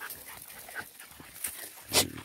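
Pit bull puppies whimper outdoors on a farm near cows and horses, a few faint, scattered high whines with one brief sharper cry near the end.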